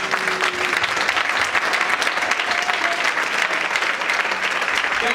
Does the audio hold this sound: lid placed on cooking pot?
no